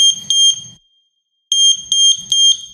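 Third Reality water leak sensor alarm sounding in loud, shrill, high-pitched beeps, a pair, then a pause of silence, then three more beeps in quick succession, close to the microphone.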